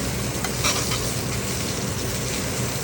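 A steak seasoned with salt, pepper, garlic and thyme sizzles loudly in a hot pan, a dense continuous crackle close up, with faint scraping of stirring or basting mixed in.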